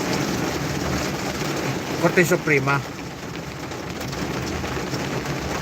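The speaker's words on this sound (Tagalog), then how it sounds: "Ang lakas ng ulan" Heavy rain hisses steadily and loudly throughout, with a voice talking briefly over the downpour.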